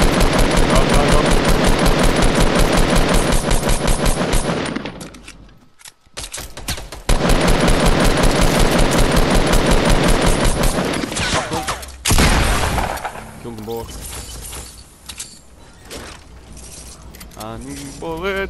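Dense automatic gunfire in a Fortnite match, long rapid bursts broken by a short pause, then scattered shots and clatter tailing off, loud and close with a voice speaking briefly.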